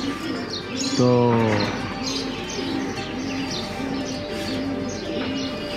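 Pigeons coo in a low, repeated rhythm through the whole stretch, with other bird chirps nearby and a brief spoken word near the start.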